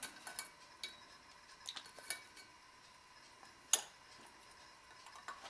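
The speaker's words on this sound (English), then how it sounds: "So just with a little whisk, we're just going to whisk up our dressing." Small whisk tapping and clinking against a bowl as lemon juice dressing is mixed, a scattering of faint, irregular light ticks and one sharper clink, with no talk.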